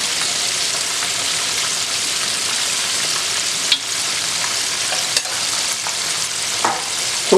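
Pork pieces fry in hot oil in a wok for crispy sweet and sour pork, a dense, loud, continuous sizzle with occasional sharper pops and spatters, no voices.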